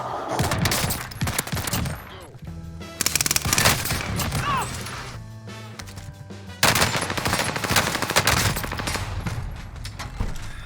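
Shotgun blasts in a video game shooter, loud repeated gunfire bursts in clusters with brief lulls, mixed with game effects and no talking.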